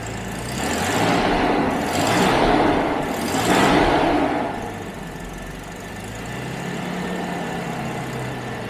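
A Jaguar XJ12 V12 engine revs up in three quick surges, then settles back to a steady idle, loud and close.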